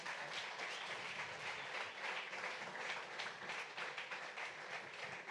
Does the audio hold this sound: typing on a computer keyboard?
no